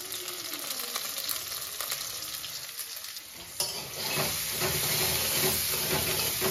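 Chopped onion with salt sizzling in a pan, a dense close hiss with scraping stirs that grows louder and busier in the second half.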